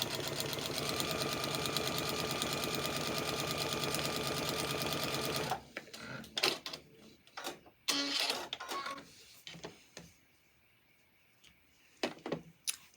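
A sewing machine with an open toe foot stitching quilt pieces at a 1.2 stitch length, running in a fast, steady mechanical chatter for about five seconds, then stopping, followed by scattered clicks and handling noises.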